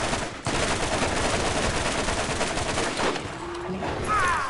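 Continuous bursts of rapid gunfire in the Borderlands video game form a dense, loud crackle that fills most of the stretch, fading near the end as a voice briefly exclaims.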